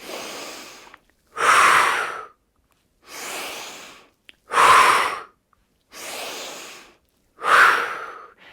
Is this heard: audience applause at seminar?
no